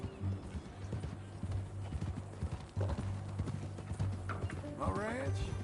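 Horse hooves clip-clop in a steady walking rhythm in the video game Red Dead Redemption, fairly near, with a brief whinny near the end, while people talk over them.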